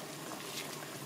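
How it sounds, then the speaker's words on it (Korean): Stew broth with vegetables bubbles at a boil in a pot, giving a brief, steady, faint wash of bubbling. "국물이 이제 바글바글 끓을 때 썰어 놓은 야채를 다 넣으시면 돼요."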